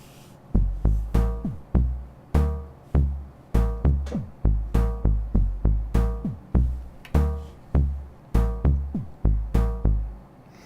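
A synthesized drum beat made in Jupyter thumps along steadily, with punchy kicks and snappy snares layered under a plucked minor-scale melody in a repeating loop.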